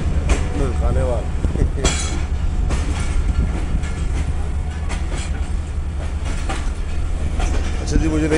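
A ZCU30 diesel locomotive travelling from Khanewal towards Lahore rumbles loudly with a heavy low engine drone and rhythmic wheel clatter, heard from on board, with voices talking over it.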